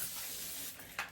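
Facial mist spray bottle giving a fine, steady hissing spray close to the mic, fading briefly and then a short second puff.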